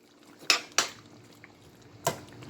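Potatoes stirred into stewed chicken (pollo guisado) in a pot: a few sharp spoon-on-pot clanks, two close together then one more after a pause, over a faint background simmer.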